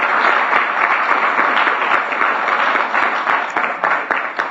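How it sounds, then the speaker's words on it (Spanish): A church congregation applauds at a Spanish-language sermon, a dense, steady wash of many hands clapping close and loud with no talk over it. "Denle un aplauso de verdad a Dios"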